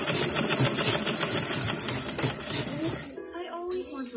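A sewing machine stitches fabric for a scrunchie with a fast, rhythmic mechanical chatter for about three seconds before stopping, after which a voice speaks briefly.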